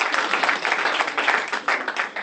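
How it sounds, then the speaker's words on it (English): Brief clapping from an audience at a university symposium, a short burst of close, uneven hand claps lasting only a couple of seconds. "A round of applause, please."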